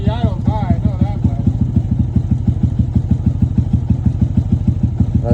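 A motorcycle engine idles with its idle raised slightly, a steady fast pulsing throb close to the microphone throughout, with a voice speaking briefly at the start.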